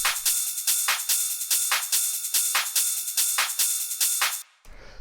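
Fast techno percussion with an open hi-hat on the upbeats, a shaker and a ride, bright and steady, cutting off abruptly near the end.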